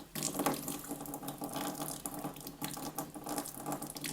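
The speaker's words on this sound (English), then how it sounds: "it's not quite a trickle, but it's very close to being a trickle" Water runs weakly from a tap fed through a BWT water softener, a faint, close, uneven stream that is nearly a trickle, with no talk.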